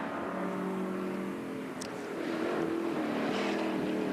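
A 1960s racing car with a 4.7 litre, 289 cubic inch engine laps the Dijon circuit during a Le Mans Classic endurance race, its steady droning engine note heard at a distance and shifting pitch as it passes.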